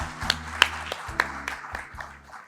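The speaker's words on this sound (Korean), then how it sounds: "최형두 의원님께도 다시 한번 큰 박수 부탁드립니다" An audience at a science and technology conference opening ceremony gives a few scattered, fairly close claps. A sustained low tone hums underneath them.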